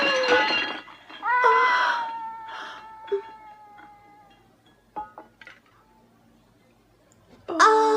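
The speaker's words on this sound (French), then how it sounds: "Oh, ce chat! Tu as un chaton?" A kitten in a farmhouse setting gives a few thin, rising meows, close and clear, with light clinks and a sharp clatter between them and another cry at the end.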